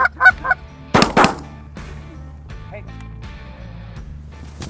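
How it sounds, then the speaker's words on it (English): A flock of geese honks as the birds lift off, a burst of loud, close honks early on, then scattered fainter calls over a quiet outdoor background. "There's some geese getting up, headed our way, maybe"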